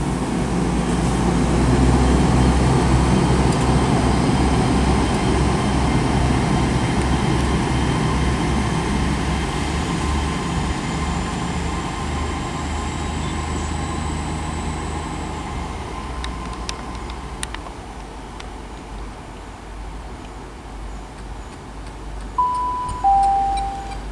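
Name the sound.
train departing Bristol Parkway station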